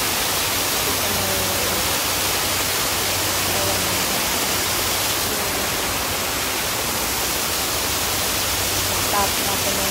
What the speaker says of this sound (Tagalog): dito tayo ngayon sa waterfall.